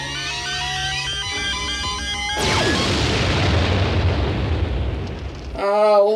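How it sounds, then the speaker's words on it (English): A makeshift proton pack explodes with a sudden loud blast that cuts through background music and rolls on as a rumbling roar for about three seconds. A voice briefly speaks right after. "Nothing about exploding makeshift proton packs."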